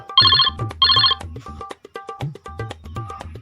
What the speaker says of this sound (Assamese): ৰাজু ফোন কৰিছিল